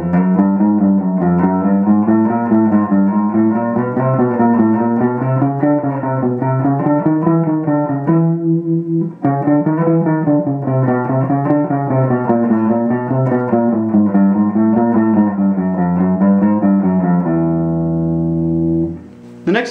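A guitar runs a warm-up exercise alternating ascending and descending groups of four notes, with even, rapid picked notes and a brief pause midway. It ends on a held ringing note, close and solo.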